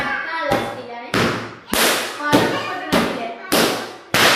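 Firecrackers burst in a regular series of about seven sharp, loud cracks, each decaying before the next, with faint voices in between.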